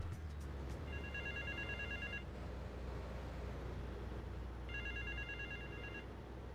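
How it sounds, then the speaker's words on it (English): A telephone rings in Grand Theft Auto III, two electronic trilling bursts separated by a pause, over a steady low engine-like hum with no speech. "Oh, phone."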